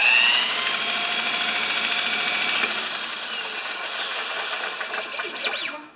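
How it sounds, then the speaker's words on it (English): A new lawn mower engine runs at a steady, loud drone with a whining tonal edge, holding constant before easing slightly and cutting off at the end. "Now there's some engine noise."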